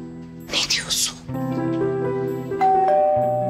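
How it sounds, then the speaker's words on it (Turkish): A doorbell chimes near and clear through a home interior, a bright two-note ring that carries on, with a low steady musical drone beneath. "Aa, ay bu zil de susmadı ama."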